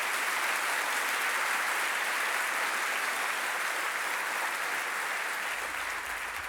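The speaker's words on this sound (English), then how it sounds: "Give them a round of applause." A concert audience applauds singers, steady sustained clapping from a room full of people that holds at an even level for several seconds and eases only slightly toward the end.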